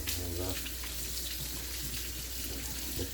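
Tap water runs steadily into a sink while a cheese press is rinsed during goat's-milk cheddar making, a continuous close hiss with faint handling sounds and no speech.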